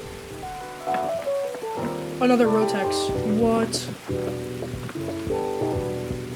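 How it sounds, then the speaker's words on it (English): Steady rain falls in the Escape From Tarkov Woods map, a continuous hiss running beneath lively voices talking over it throughout. "Also, it's still raining, bro."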